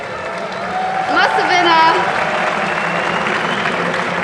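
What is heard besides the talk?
crowd cheering in a hall at Gamescom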